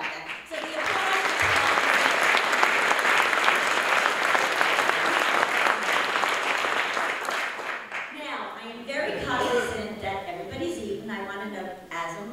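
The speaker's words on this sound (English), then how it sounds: "So the applause." Applause from an awards luncheon audience fills the first eight seconds, a dense, steady clatter of many hands, then tapers off as a voice begins speaking over the fading claps.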